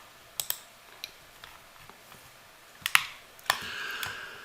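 Computer keyboard keys tapped at close range while a number is entered in Blender, a few sparse clicks followed by a quick cluster of keystrokes in a quiet room.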